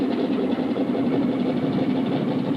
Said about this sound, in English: Start right engine.